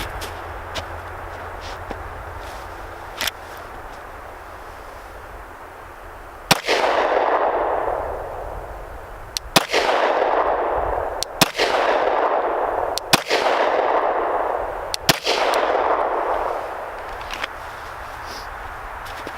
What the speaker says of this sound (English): draw and 5 shots strong hand only